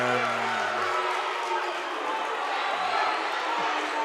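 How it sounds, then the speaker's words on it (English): At a basketball game, a crowd murmurs and groans in disapproval of a referee's call, a broad, steady roar under a commentator talking. "crowd does not like that call."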